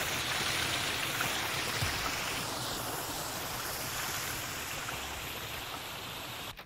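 Loud, steady rushing water in Morrowind's city of Vivec, a continuous wash of noise holding at an even level from start to end with no talk.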